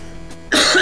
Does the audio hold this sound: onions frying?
no